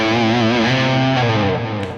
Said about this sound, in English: hitting it with a Tube Screamer, style pedal to take it over the top